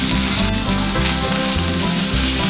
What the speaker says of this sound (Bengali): এবারে ছোট ছোট করে কাটা গাজর আর বিনসগুলো দিয়ে ভাজতে থাকব।